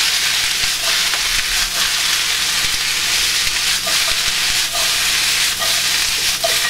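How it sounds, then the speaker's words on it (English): Cabbage sautéing in bacon fat in a pan gives a steady, loud sizzle and frying hiss throughout, with occasional soft scraping and stirring touches and no talking. "it should only take you about 2 or 3 minutes to sauté"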